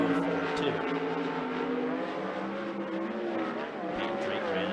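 A 360 sprint car laps Skagit Speedway, its engine a continuous loud, rising and falling roar heard from a distance, with an announcer talking over it.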